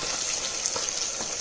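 Onion sautéing in a pan for chicken poriyal, a continuous close hiss of sizzling oil with a few soft clinks and stirring scrapes, and no voices.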